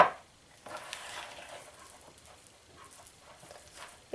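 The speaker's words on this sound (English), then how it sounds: "mix it all together" Cookie dough for rainbow chocolate chip cookies being mixed by hand, soft faint stirring and patting sounds that come and go in a quiet room, with no talking.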